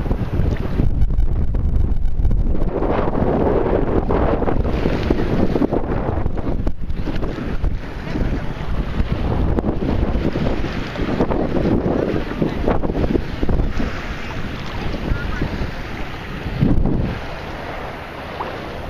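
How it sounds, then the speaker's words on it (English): Strong wind buffets the microphone by the sea near a boat, with rocks and a channel cut nearby, a steady rushing roar with gusts rising and falling over the water and no clear talk. "it's really windy"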